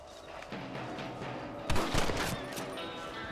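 Rifle shots fired at rabbits in the game Red Dead Redemption, a couple of sharp bursts near the middle standing out over a low continuous game soundscape, fairly quiet overall.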